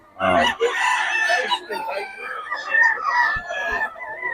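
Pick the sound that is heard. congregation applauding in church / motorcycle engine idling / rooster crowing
rooster crowing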